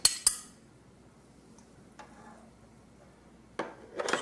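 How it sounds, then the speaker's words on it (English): A large spoon clinks against a pot or bowl as steak sauce is stirred into chicken consomme, giving a few sharp metallic taps and scrapes separated by quiet stretches, close and fairly faint. "Stir, stir that around a little bit"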